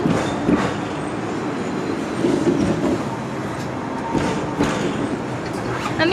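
A Hong Kong tram rolls along from inside the car, with a steady rumbling wheel-and-track drone and occasional clacks, faint talk mixed under the ride noise.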